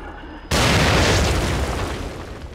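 A loud grenade explosion in The Evil Within, a sudden blast that bursts in after half a second of quiet and then rolls on as a long, heavy roar that slowly fades.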